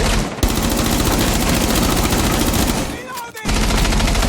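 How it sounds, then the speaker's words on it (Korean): Rapid automatic gunfire in a video game rattles on continuously at close range, breaking for a short pause before resuming just as hard. "총알 다 쏜다"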